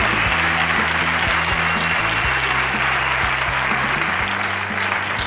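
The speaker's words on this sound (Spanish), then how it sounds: "Fuerte aplauso para Valentín." Loud, sustained audience applause in a comedy show venue, thick continuous clapping with music or low tones humming underneath.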